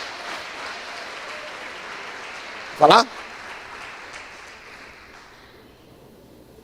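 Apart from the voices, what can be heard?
congregation applause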